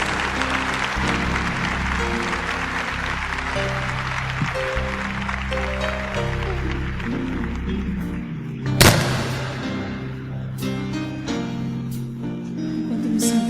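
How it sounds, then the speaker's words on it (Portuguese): A church congregation claps together in sustained applause with music playing underneath, and a single loud thump lands near the end. "Vamos aplaudir a palavra de Deus com toda a nossa força."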